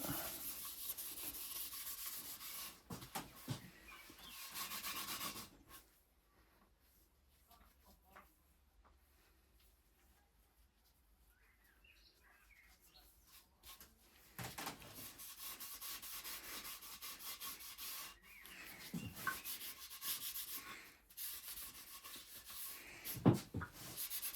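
A rag rubbing wax onto a wooden foot stool, soft swishing strokes near the mic, falling quiet for a long stretch in the middle before the rubbing resumes with a few knocks near the end.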